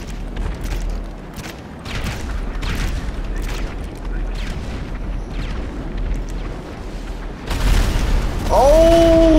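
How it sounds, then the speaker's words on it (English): Missile blasts in GTA Online rumble as a low, continuous booming, and one heavier explosion lands close and loud near the end. "Somebody shooting missiles at me?"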